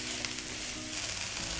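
Mushrooms sauté in a pan with a constant close hiss and gentle crackle, steady throughout and with no voices over it.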